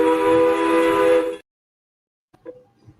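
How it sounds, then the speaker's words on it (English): A loud, sustained train whistle sounds for about a second and a half with steady harmonic tones, then cuts off, leaving near silence broken by a few faint knocks at night outdoors. "That's a motherfucking train."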